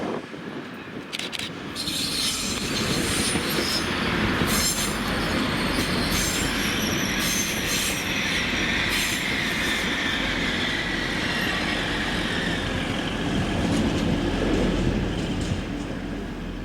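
A Class 180 diesel train rumbles steadily past close by at Doncaster station, its engine drone and wheel noise holding loud throughout, with faint wheel squeal and clicks on the rails.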